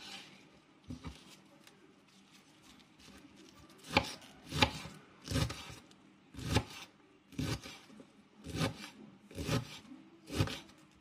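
A knife chops cabbage on a board in regular, close, crisp strokes, about one every second, with lighter scraping in between and no talk.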